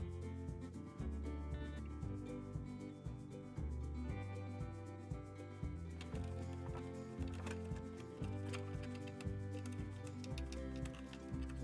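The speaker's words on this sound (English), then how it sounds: "I've got my lint-free rag, and I'm just gonna buff all this wax in" Rhythmic rubbing as a lint-free rag buffs wax into a chippy, blended painted wooden furniture finish, steady and close, running alongside a constant tonal background.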